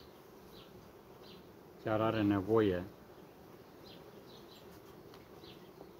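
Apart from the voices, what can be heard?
honeybees buzzing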